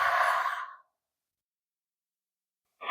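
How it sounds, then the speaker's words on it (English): A deep exhale during a morning yoga stretch, one long breathy sigh fading out, then silence, then the start of another breath, close and clear with no talk. "One more deep breath here."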